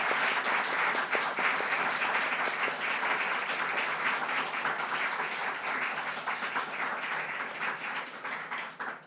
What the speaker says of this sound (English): I would like to invite a final round of applause for all of our wonderful honorees tonight.